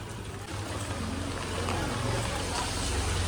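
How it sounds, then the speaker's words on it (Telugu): Rainwater from a heavy downpour flows in a constant rushing wash with a low rumble underneath, steady and close throughout. "చూసిరా వర్షం నీళ్ళు ఎట్లా పోతున్నాయో."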